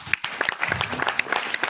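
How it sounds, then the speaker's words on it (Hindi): Audience claps to welcome new guests at a Vestige business meeting, producing a short spell of irregular, moderately loud hand claps with some murmuring voices mixed in. "एक बार जोरदार तालियों के साथ हम अपने नए मेहमानों का स्वागत करें"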